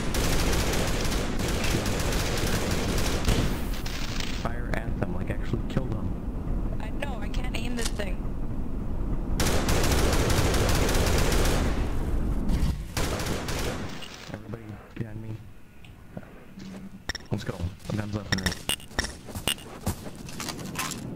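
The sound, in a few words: gunfire in Garry's Mod WWII roleplay, from a video game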